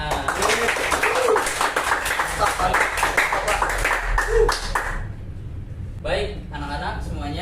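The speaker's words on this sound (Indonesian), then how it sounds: "Mari tepuk tangan." A group of students in a classroom group-counselling session claps together in a dense burst for about five seconds, with a teacher's voice over it, then the clapping stops and the teacher speaks again.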